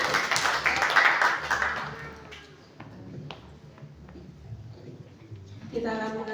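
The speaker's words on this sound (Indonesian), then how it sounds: "Tepuk tangan buat Tuhan Yesus." A church congregation claps together during a Sunday worship service, a dense burst of hand claps that fades after about two seconds and gives way to a speaking voice and quieter room sounds.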